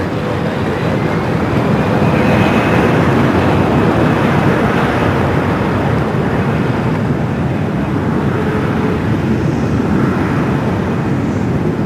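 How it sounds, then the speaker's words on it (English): Turkish Airlines Boeing 777-300ER arriving at LAX from Istanbul makes a steady broadband jet roar, loud and unbroken throughout, with rumbling wind-like noise. "Turkish Flight 9 coming from Istanbul. The 777 at 300 ER running almost an hour late here today"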